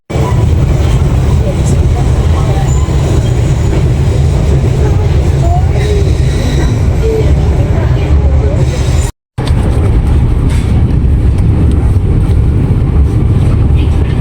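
Executive-class passenger train pulling into Malang station in Indonesia, with a loud, continuous low rumble and rolling rail noise throughout, broken by one brief gap.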